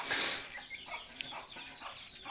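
A chicken clucks in a rural yard kept with goats, fairly faint: scattered short clucks under a steady hiss, with one sharp click partway through.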